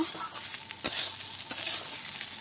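Rice for basanti pulao frying in ghee while being stirred around the pan, a steady close sizzle with scraping strokes and one sharper clink of the spoon.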